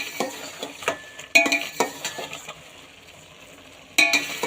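Grated carrots for gajar ka halwa fry in ghee in a pan while a metal spoon stirs them, making soft sizzling with repeated scraping strokes and a few sharp clinks against the pan, close and with no talk.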